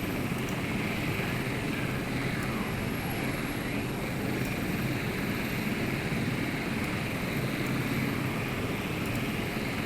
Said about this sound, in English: Attack helicopter over there.